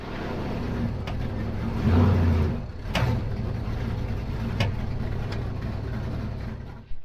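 A race truck engine runs steadily as the rig is driven slowly into a garage, with a low continuous rumble, a brief louder surge, and a few sharp mechanical clicks and clanks on top.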